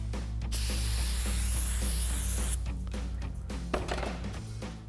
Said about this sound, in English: we're going to use some brake cleaner and a clean cloth and just spray this down